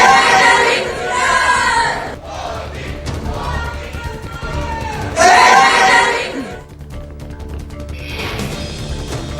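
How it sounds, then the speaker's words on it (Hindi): An Indian community crowd greets PM Modi in Moscow with loud rhythmic chanting of his name, surging in waves of shouting voices with cheers and brief lulls between bursts. "प्रधानमंत्री मोदी को देखते ही भारतीयों ने लगाए मोदी मोदी के नारे"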